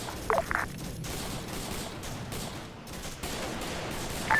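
Mortar fire in a Vietnam War video game, a few sharp distant thumps at the start and again at the end over steady battlefield noise, with no talk.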